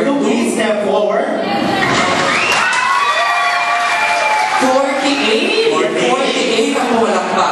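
A live studio audience claps and cheers for a candidate on a Filipino sitcom game segment, with a dense, steady wash of applause, shouts and whistles throughout and voices mixed in.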